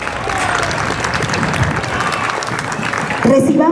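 A crowd applauds loudly at the 2022 Santa Cruz patron saint festival in Tacache de Mina, Carrera, an outdoor event with horse races. Busy, dense clapping carries on for several seconds, then an amplified voice begins speaking over it near the end.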